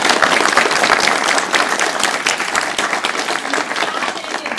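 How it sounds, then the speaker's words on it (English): An audience at a graduate admitted-students day panel breaks into sustained, dense clapping that stays loud and steady throughout. "I'd love to give a round of applause"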